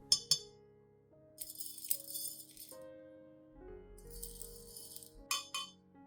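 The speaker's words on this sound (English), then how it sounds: "Add 3 tablespoons of rice to a clean glass cup." Dry rice grains poured into a clean glass cup, giving a close, clinking rattle in two sustained bursts, with a few sharp taps at the start and end.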